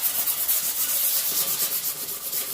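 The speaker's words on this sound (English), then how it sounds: "I took some 220 grit paper and a sanding sponge" Steady rhythmic rubbing of a 220-grit sanding sponge over a wooden toybox, close up, a soft scratchy swish repeating in quick strokes.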